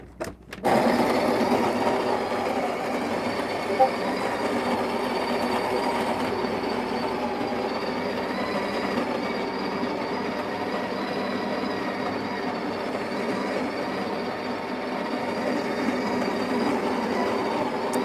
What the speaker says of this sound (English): put the coffee grinder in and grind.